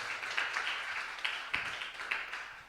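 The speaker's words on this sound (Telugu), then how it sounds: "చప్పట్లు కొట్టి దేవుని మహింపరుస్తాం." Congregation at a Telugu church service clapping hands together, a dense, steady patter of many palms with a few sharper accented claps standing out.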